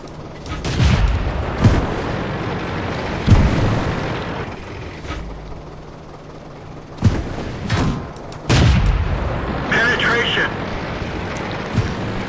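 Tank cannon shots in a tank video game featuring the M5 Stuart, several heavy booms with rumbling tails over engine noise, with voices talking between them.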